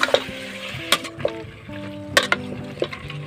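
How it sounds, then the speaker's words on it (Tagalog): A utensil scrapes and clanks against a metal casserole pot in irregular strokes while meat sizzles steadily underneath as it sautés, close by and moderately loud. "halu-haluin lang po natin."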